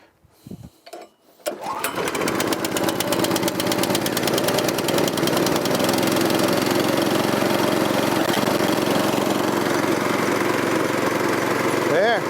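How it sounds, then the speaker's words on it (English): A small rototiller engine starts after a few faint pulls and then settles into a steady, loud, buzzing run that stays even to the end, with no talk over it. "Come on, little rototiller. You were just running."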